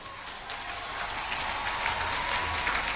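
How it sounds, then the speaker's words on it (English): Sustained applause from a graduation convocation crowd honoring summa cum laude graduates, a steady dense wash of clapping with no voices over it. "Ladies and gentlemen, please give a big round of applause."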